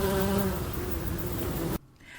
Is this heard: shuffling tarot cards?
no